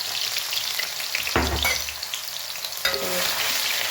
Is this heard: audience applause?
no